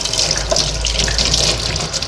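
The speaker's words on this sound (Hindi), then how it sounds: "सिन का भी पानी थोड़ा निकाल देती हूँ," Water drains steadily from a kitchen sink, a constant close rushing, gurgling flow with no speech.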